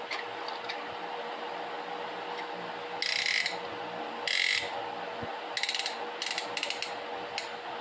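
Ratcheting piston ring compressor being tightened around a piston for a 350 small block Chevy, heard as several brief bursts of close mechanical clicking separated by pauses, over a steady background hum.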